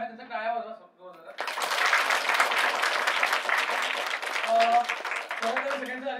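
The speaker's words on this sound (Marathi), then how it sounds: "त्यांचा टाळ्या वाजवा जोरदार" An audience at a live drama show bursts into loud, sustained applause that follows a brief spoken line, with clapping swelling and holding steady to the end.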